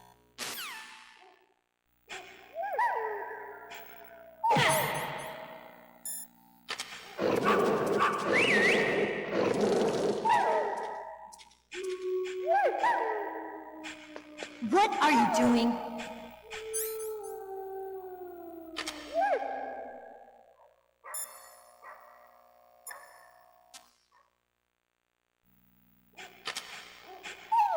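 Wolves bark and howl in Metal Gear Solid, with several drawn-out gliding howls and sharp yelps overlapping across the scene at close range and fairly loud, with short silent gaps and a brief spoken line.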